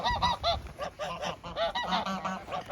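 A male goose on the attack honks loudly and close by, letting out a rapid series of harsh, nasal calls that run almost continuously.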